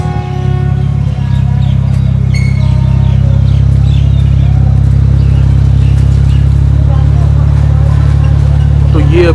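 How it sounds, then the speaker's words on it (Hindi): A stock BMW Z4 with its engine running loud and close, a steady deep exhaust drone holding throughout with a slight rise in pitch partway through, and no talk. "एग्जॉस्ट की साउंड एक बार एक रेव थोड़ा हम फील करना चाहते हैं स्टॉक BMW Z4 का"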